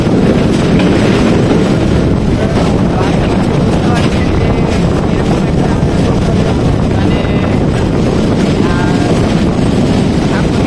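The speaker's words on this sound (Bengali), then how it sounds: "তো ট্রেন এখন আফজলপুর রেলওয়ে স্টেশনে প্রবেশ করেছে" A passenger train pulling into Afjalpur railway station in Bangladesh on the Rajshahi to Santahar route gives a loud, steady rumble and rattle of carriages throughout, heard from on board with faint voices in the background.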